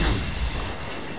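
Warship gunfire in World of Warships from the heavy cruiser Furutaka, a single deep booming blast with a rumbling low tail, loud and close, with no talking.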